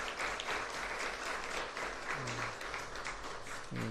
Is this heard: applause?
yes